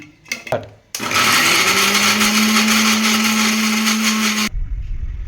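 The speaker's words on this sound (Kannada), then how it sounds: "ಈಗ ಇದನ್ನು ನಾನು ಮಿಕ್ಸಿ ಮಾಡ್ತೀನಿ" An electric mixer grinder blends grated coconut with a little water. It starts after a few clicks and handling knocks, holds a loud steady whining roar for about three and a half seconds, then cuts off.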